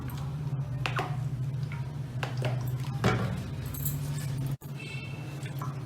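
Chicken being mixed with yogurt, chili sauce, soy sauce and spices in a bowl, giving light clinks, taps and scraping over a steady background hum, with one sharp knock near the end.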